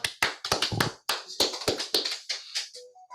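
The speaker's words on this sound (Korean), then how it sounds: "뜨거운 박수로 환영하겠습니다" Scattered hand claps at an indoor club gathering welcome a speaker, sharp and close, in a brief uneven burst that thins out after about two and a half seconds.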